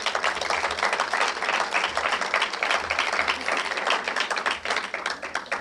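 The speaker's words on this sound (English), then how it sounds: "can we just give a round of applause to everybody here?" Steady, dense round of audience applause at a luncheon, with a continuous patter of many hands clapping at even loudness throughout, easing slightly at the very end.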